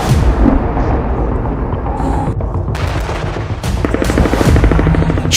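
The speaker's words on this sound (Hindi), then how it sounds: "खान यूनिस पर खूनी हवाई हमले" Air strikes on Khan Younis in Gaza: a dense, continuous wash of loud blasts and rumbling booms, with sharper crackling bursts toward the end, everything close and chaotic with no voices.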